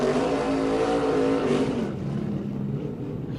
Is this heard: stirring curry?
no